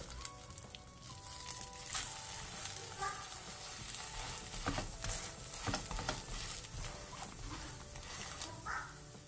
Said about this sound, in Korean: 바닥이 노릇노릇해지면 뒤집고 뒤집은 쪽도 마저 노릇노릇하게 부쳐주세요.